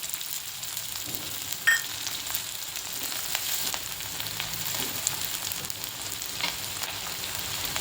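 Finely chopped onion frying in hot oil in a kadhai, giving a steady close sizzle with a faint clink or two of a utensil, and no talking.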